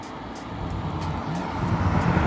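A rear-wheel-drive BMW M140i on Michelin Pilot Sport 4 tyres corners on a wet, greasy road, giving a steady, dense roar of tyre spray and road noise with engine hum that swells slightly toward the end.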